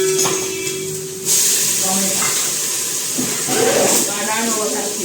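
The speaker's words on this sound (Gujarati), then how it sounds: "આ દાળનો વઘાર થાય છે." Mustard seeds, cumin and cinnamon for a dal tempering hit hot oil and set off a loud, steady sizzling hiss, with someone talking over the sound.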